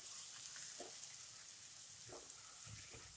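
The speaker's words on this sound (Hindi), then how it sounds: "तो हम प्याज को मीडियम फ्लेम पे 4 से 5 मिनट तक भूनेंगे" Grated onion fries in a pan over a medium flame for dum aloo, a continuous close sizzle with soft stirring scrapes now and then and no voices.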